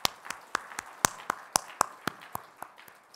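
Sparse, separate hand claps at a church New Year worship service in Korea, about a dozen distinct claps spaced unevenly, fairly soft and slightly distant, with no voices over them.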